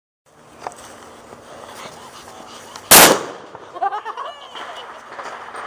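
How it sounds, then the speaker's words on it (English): A firecracker bomb bursts once with a sharp, loud bang partway through, set against a steady background hiss, followed by faint crackling and a voice speaking afterward. "This time we're going to blow up a hot dog with a bomb."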